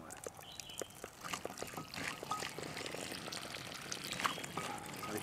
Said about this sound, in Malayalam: വെള്ളം ഒഴിക്കട്ടെ